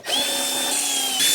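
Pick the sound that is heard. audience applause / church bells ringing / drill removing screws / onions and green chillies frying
drill removing screws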